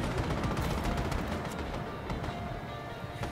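Rapid bursts of weapon fire from a gunboat in a video game crackle in a dense, continuous volley, loud and close, with no voices over it.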